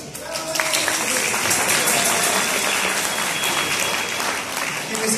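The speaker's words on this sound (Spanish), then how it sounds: "Fuertes palmas, por favor." Sustained audience applause from a live stage-show crowd, dense and steady throughout at full loudness, with a slight dip near the end.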